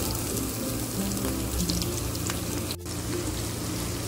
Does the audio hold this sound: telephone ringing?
no